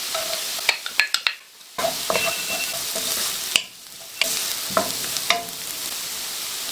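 Red onion and garlic sautéing in a pan: a steady, close sizzle broken by sharp clinks and scrapes of a utensil stirring against the pan, with brief pauses when the heat noise drops away.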